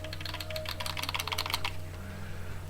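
Buttons on an Xbox One Elite controller clicking in a quick, irregular burst of light, close taps for about a second and a half, then quiet background hum.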